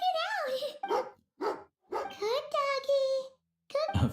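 A dog eating and barking in the video game Genshin Impact, giving a few short yips and whimpering barks in separate bursts, close and clear, mixed with character voices.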